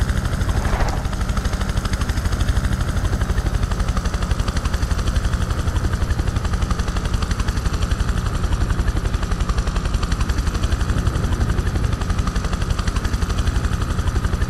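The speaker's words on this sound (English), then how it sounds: "Hello, fellow helicopter." A helicopter in the video game Prototype 2 whirs with a loud, steady rotor chop and engine drone that stays constant and close throughout.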